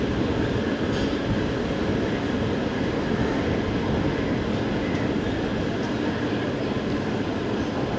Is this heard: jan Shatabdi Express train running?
yes